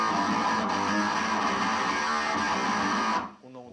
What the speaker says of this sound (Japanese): これオクターブファズなんですよ。